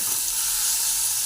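Onions and tomatoes frying in a pan, a steady, close sizzling hiss with no pauses or voices over the brief stretch.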